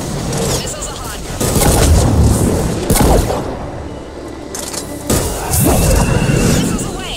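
Missile launches and explosions in Mass Effect 3: heavy booming blasts and rumbling thuds, loud and close, with a sharp impact near three seconds and another burst near five, under a dense barrage of battle noise.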